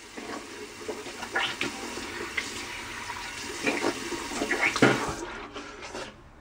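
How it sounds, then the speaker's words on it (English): Water splashes and swishes in a bathroom sink as a mouth is rinsed after mouthwash, a series of irregular gurgling and pouring bursts close by that stop abruptly near the end. "Rinse your mouth off again with water."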